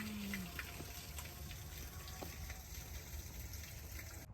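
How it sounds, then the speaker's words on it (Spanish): Mountain water runs down toward the village fountains in rural Germany, a steady close rush and gush like a flowing spout, continuous throughout with no voices. "El agua que viene de las montañas, que va corriendo desde las montañas hasta abajo, hasta el pueblo"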